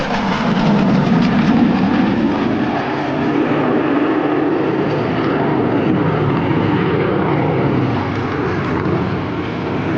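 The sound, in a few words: USAF F-16 Falcon fighter jet flying a minimum radius turn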